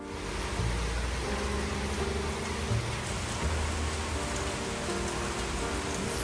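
Steady rain pouring outside on a summer day, a broad even hiss of drops striking surfaces with faint low rumbles beneath, continuous and unbroken.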